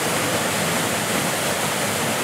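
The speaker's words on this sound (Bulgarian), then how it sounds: "втори водопад. Това е съвсем малки водопад" A small waterfall near the village of Fotinovo sends out a steady, dense rush of falling water, loud and close, with no pauses and no voices.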